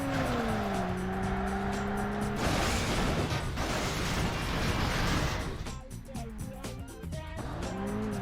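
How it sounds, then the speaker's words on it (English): Tires squeal and engines whine as a car crashes at the end of a race in the Burnout video game, a dense, loud burst of scraping, crunching noise layered over revving motors. "You're crashing now at the very end of the last lap."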